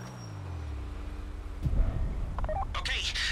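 Phone app tones in GTA V Online: a few short electronic beeps and blips, close and clear, following a low rumble and a thump, while in-game activity carries on in the background.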